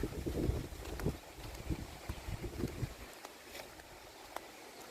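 Gusty wind blows across an open field beside water where maize has been harvested, rumbling loudly against the microphone for about three seconds before easing into a calmer breeze.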